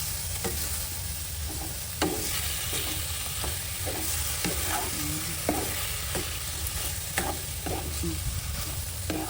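Shrimp and squid stir-fried in a pan for Thai seafood basil stir-fry, a steady soft sizzle with scattered light clicks of a spatula stirring, fairly quiet and without speech.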